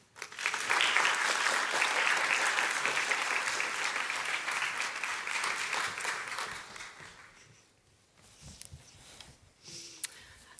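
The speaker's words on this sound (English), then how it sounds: "Please join me in giving a big round of applause for our next speaker" A Brussels audience at the 2023 NATO Youth Summit applauds the next speaker with dense, sustained clapping that holds for several seconds, then fades into quiet room sound with a few scattered claps.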